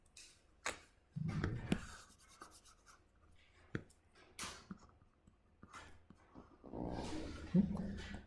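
Marker or chalk scratching and tapping across a lecture board as a schematic for a two-stage Miller op-amp is drawn, irregular strokes and squeaks with short gaps, close and moderately loud.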